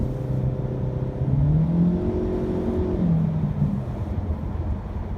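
A 2018 Ford C-Max hybrid accelerating at half throttle from inside the cabin, a loud whirring engine drone rising and falling in pitch over road rumble, steady and close.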